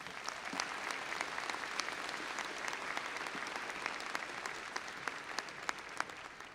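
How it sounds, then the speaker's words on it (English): A university commencement crowd gives a sustained round of applause after a collaborative piano performance of the national anthem, steady clapping heard from a distance with sharper individual claps near the end. "Please join me in giving them a round of applause"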